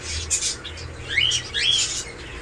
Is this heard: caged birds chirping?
yes